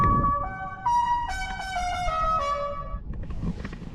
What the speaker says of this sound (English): You have all kinds of songs, all kinds of sounds that you can make and replace the horn with